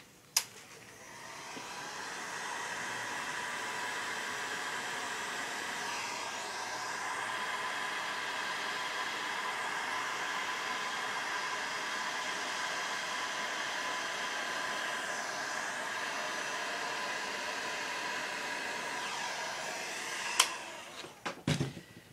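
A heat gun blows a steady, even hiss of air across a resin art pour with neon pigments, running continuously for about twenty seconds before cutting off with a few faint clicks near the end.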